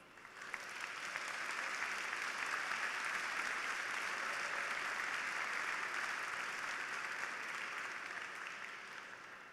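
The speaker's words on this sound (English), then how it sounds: "May we please have a round of applause for them." At a University of Maine graduate commencement ceremony, an audience applauds in a dense, even wash of clapping that builds quickly, holds steady and tapers near the end, heard from a moderate distance.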